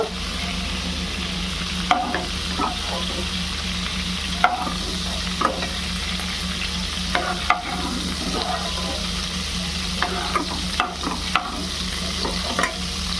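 Prawns fry in hot oil for a korma, a constant loud sizzle with occasional scraping and tapping as the pieces are turned and lifted out of the pan.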